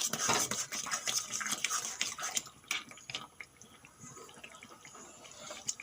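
Boiled water taro (shola kochu) being stirred in a pan with a cooking utensil, giving close scraping and clinking strokes with wet, liquid sounds, busier at the start and softer toward the end; no talking.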